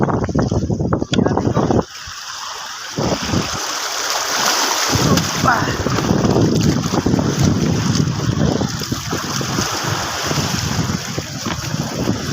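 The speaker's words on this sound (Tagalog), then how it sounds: "sobrang lakas ng alon" Strong waves churning and crashing on a rocky shore in stormy wind, heavy continuous roar with buffeting wind noise on the microphone and occasional voices underneath.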